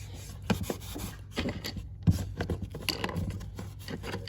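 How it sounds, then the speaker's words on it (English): A pencil eraser scrubs grease and dried gunk off the rails of a Lionel toy train track, making close, soft, irregular rubbing and scratching strokes in quick uneven bursts with small taps between them. "take our pencil here and start, erasing a lot of this grease and dried up, gunk that's on the rails here"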